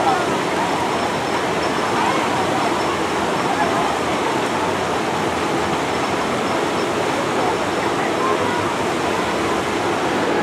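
Rushing water at a rapids ride in a Six Flags amusement park, a loud, steady broadband roar that holds at the same level throughout, close by and without a break.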